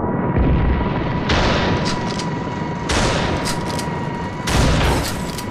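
Gunfire in the video game Ravenfield, loud sustained bursts of rapid shots with booming impacts, coming in several waves over a dense, constant battle din, close up and without speech.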